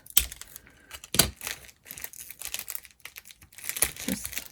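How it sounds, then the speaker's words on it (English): Clear tape crinkling and being pulled and handled on a craft bag, several sharp crackly bursts with quieter rustling between, close and alone. "I'm going to take a little bit of clear tape and flip this over"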